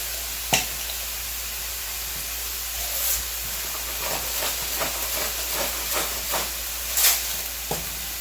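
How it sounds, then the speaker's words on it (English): Onions softening in a pan, a steady close hiss of sizzling with scattered clicks and sharper pops from stirring, no talk. "Just going to cook this up until the onions become a little soft"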